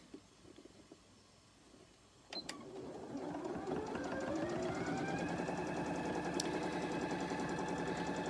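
A sewing machine stitches a pillowcase seam, quiet rustling and handling at first, then the motor starts and runs as a steady, rapid mechanical whir that rises slightly in pitch, close and alone.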